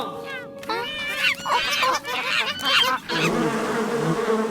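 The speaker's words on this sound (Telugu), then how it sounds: "ఈ తేనెటీగలు వెళ్ళిపోతే తేనె పట్టు దొరుకుతుంది" Cartoon bees buzzing loudly and continuously, with squeaky, wavering tones rising and falling over the drone.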